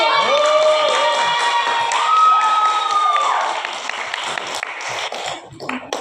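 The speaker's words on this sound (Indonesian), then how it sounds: "tepuk tangan" Students in a classroom clap and cheer during a micro-teaching lesson, a loud burst of mixed applause and young voices that thins toward the end.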